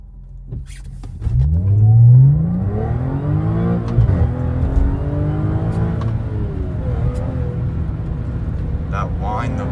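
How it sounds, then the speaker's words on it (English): Supercharged 2011 Audi S4 B8 with an Injen cold air intake revving hard, a rising engine roar with a climbing supercharger whine over the revs, then holding steady at high RPM, loud and close. "it actually opens up the supercharger whine"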